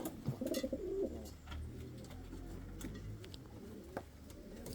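An Indian fantail pigeon gives a short burst of low, throaty cooing near the start, then the scene goes on with faint rustling, light taps and quiet background noise.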